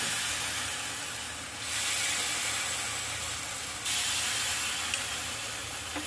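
Appe batter spooned into a hot appe stand, giving a steady hissing sizzle with two sudden surges as more batter hits the hot pan.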